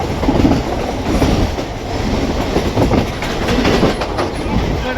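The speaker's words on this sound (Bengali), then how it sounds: "গতি ধরেছে ট্রেন" A passenger train pulling out of Howrah station and gathering speed, heard from inside the carriage as a loud, steady rumble with rhythmic clickety-clack of wheels over rail joints throughout.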